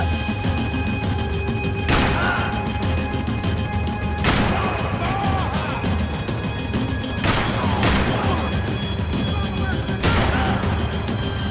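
Gunfire during a vehicle chase in Max Payne 3, with loud sharp blasts at irregular intervals over a dense, constant roar of action and engine noise, while voices shout throughout.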